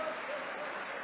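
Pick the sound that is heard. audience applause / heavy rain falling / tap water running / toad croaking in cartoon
audience applause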